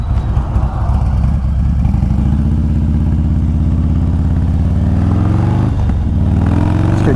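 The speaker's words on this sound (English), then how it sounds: "better stop, the car's coming, especially when they're doing 100 k's an hour" A car closes in fast and roars past at around 100 km/h on an open road, a loud, steady engine rush building up close before a brief dip as it goes by, heard alone with no talk.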